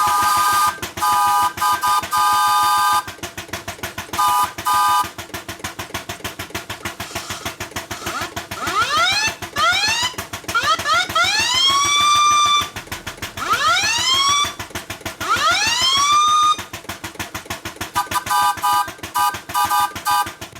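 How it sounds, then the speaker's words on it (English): A loud steam whistle and steam siren on a steam engine sound in repeated blasts, the siren rising and falling in pitch over a steady chuffing engine beat. "Time to try the steam whistle and steam siren."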